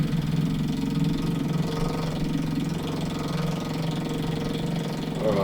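A newly installed marine diesel engine on a wooden boat runs at a steady idle on its first start, a continuous low throbbing rumble with a rhythmic knock, close and loud, with no talk.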